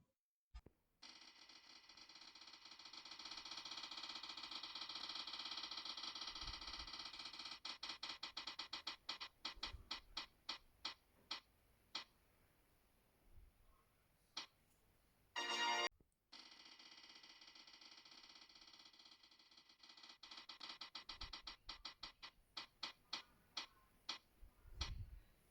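A spinning prize wheel ticks rapidly at first, the clicks slowing and spacing out until it stops, then a second spin starts fast again and winds down; quiet and close, with no talking.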